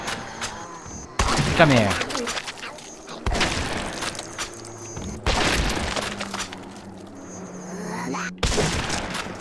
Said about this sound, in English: I guess I've got to shoot more zombies.